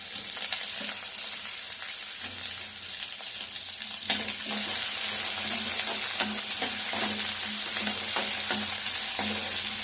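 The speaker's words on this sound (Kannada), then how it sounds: "ಇವೆಲ್ಲ ಸ್ವಲ್ಪ ಫ್ರೈ ಆಗೋವರೆಗೂ ಹುರ್ಕೋಬೇಕು." Onions and green chillies fry in a pan with a steady, close sizzle that grows louder partway through, and frequent light scrapes and taps of a spoon stirring them. No one speaks.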